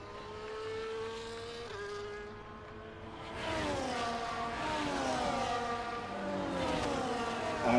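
Several racing cars in a racing game drive a formation lap at the Austria circuit, their engines droning and rising in pitch as they accelerate together at a steady, moderate volume.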